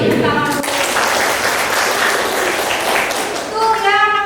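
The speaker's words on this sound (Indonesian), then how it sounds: "Tepuk tangan dulu." A group of children claps in a burst of applause, with young voices heard briefly at the start and end.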